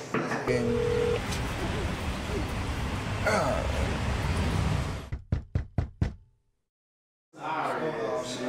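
Telephone keypad tones sound as a quick run of about six clipped beeps, cutting in after a stretch of loud music and voices, followed by a moment of near silence before the music resumes.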